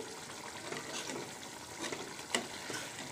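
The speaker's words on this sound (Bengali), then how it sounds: "এই যে চিংড়িটা ভালো করে কষিয়ে নিচ্ছি" Shrimp are stir-fried with spices in a large pot, giving a low, steady sizzle with soft stirring scrapes, faint and continuous, with one brief sharper clatter near the end.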